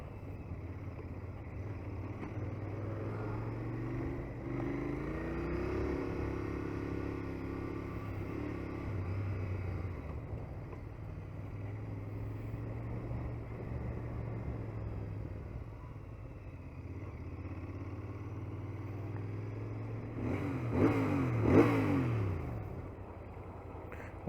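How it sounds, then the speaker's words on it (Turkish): A Royal Enfield motorcycle engine idles and rumbles steadily, its exhaust note swelling in a few gentle revs, then rising to a louder burst near the end. "Motosikletin egzoz sesi."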